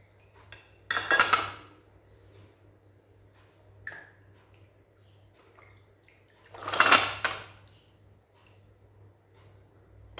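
Metal puja items and a Shri Yantra are rinsed in water. Two clear bursts of splashing and metallic clattering come several seconds apart, with a faint tick between them, in an otherwise quiet room.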